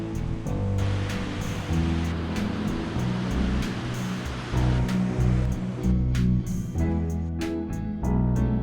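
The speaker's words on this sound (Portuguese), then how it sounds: "Cascata Pinel, muito legal." Cascata Pinel waterfall in Nova Friburgo, Brazil, a steady broadband rush of falling water that holds for the whole stretch, with a low tonal hum running underneath.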